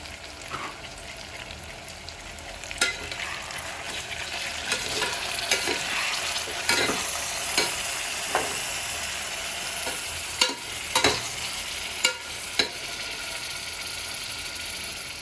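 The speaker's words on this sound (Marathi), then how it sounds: "चांगलं फिरवून घेऊया" Garlic and coriander paste sizzles steadily in a pan for Malvani prawn biryani, while a spatula stirs with repeated scraping clacks against the metal.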